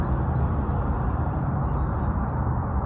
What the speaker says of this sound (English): I hear those birdies, you hear them?